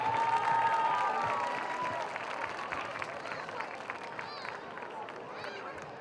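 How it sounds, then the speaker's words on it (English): A crowd in the stands at a high school homecoming football game applauds the homecoming candidates, broad clapping and crowd noise that starts strong and gradually fades. "Let's give one last round of applause for our 2024 candidates and representatives"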